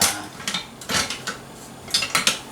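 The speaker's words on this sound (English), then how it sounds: "give that a whisk." A whisk scrapes and clinks in rapid bursts against a pot as poultry seasoning goes into the liquid. The strokes come close and fairly clear in short groups with brief pauses, and no one speaks.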